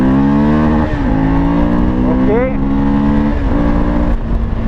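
Suzuki V-Strom 1000 XT motorcycle accelerating hard through the gears, engine pitch climbing then dropping at each shift, loud and close, with a brief spoken word over it.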